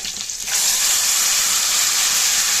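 Spices and a sprig of curry leaves splutter in hot oil for a kuzhambu, a sudden loud hiss that swells after a quieter start and then holds as a dense, close sizzle.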